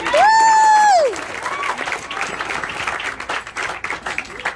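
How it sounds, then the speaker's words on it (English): Audience at a magic show giving a round of applause, dense clapping with a crowd murmur that carries on for several seconds, opened by a brief sustained tone at the start. "Give them a huge round of applause."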